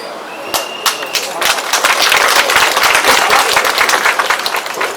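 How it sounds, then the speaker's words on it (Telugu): An indoor audience bursts into applause, building within the first second into dense, sustained clapping from many hands that stays loud to the end. "చప్పట్లు కొట్టారు, మంచిదే."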